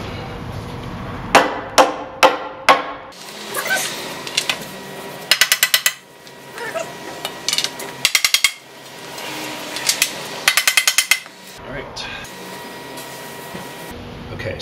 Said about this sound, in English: Pound down on rails until snug.